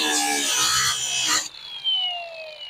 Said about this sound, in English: But this one down here, I'm gonna have to grind it like so.